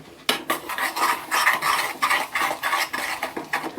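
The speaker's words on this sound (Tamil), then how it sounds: "ஸோ இதை நல்லா மிக்ஸ் கொடுங்க." A spoon scrapes and clinks steadily around a metal pan as sesame seeds are stirred into jaggery syrup over a low flame for kozhukkattai filling, a brisk, close, repeated scraping rhythm with no talking.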